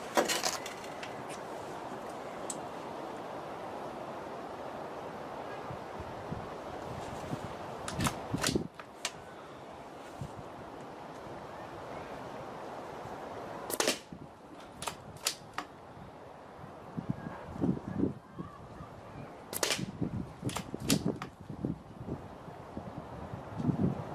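Air rifle firing JSB Hades pellets at a 10-yard range, a few sharp snapping shots spaced several seconds apart over faint wind noise and light handling clicks.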